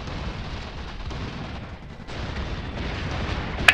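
Battle noise from the strategy game Iron Harvest: continuous rumbling gunfire and artillery fire, a dense low barrage with occasional louder bursts and a sharp crack near the end, no talk.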